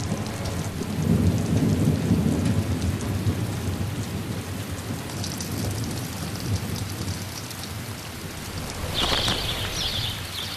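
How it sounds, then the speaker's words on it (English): Heavy rain pours steadily on the wild Inner Hebrides islands of Scotland while thunder rumbles low, with a brief high chirp breaking through near the end. "When it rains here, it really rains."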